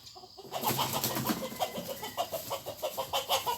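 A chicken clucks in short repeated pulses alongside other fowl sounds, moderately close over a steady noisy background throughout.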